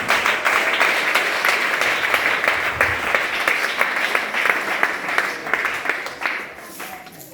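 An evangelical congregation at a revival gathering claps steadily for several seconds, a dense, even wash of applause with occasional sharper claps standing out, fading slightly at the end.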